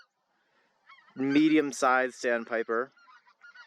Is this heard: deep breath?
no